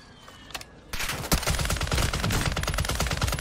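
Rapid automatic gunfire from the video game Warzone 2 erupts after a quiet moment and continues as a dense, loud burst of shots, with a few isolated shots before it.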